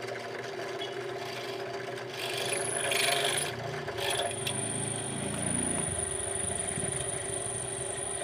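A drill bores slowly through a thick 10mm steel plate, giving a faint, continuous grinding and rasping scrape with a high metallic whine, growing rougher midway; no one talks.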